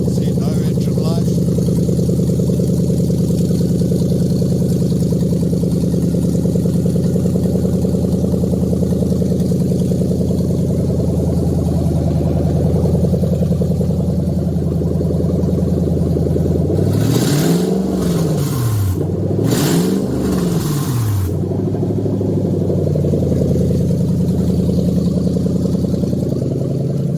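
A Toyota 3UZ engine running on a test stand without a radiator idles steadily throughout, with two brief revs rising and falling in pitch near the middle; someone talks over it.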